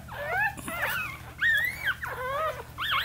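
A puppy whimpers close by in a series of high, wavering whines, several short cries separated by brief pauses.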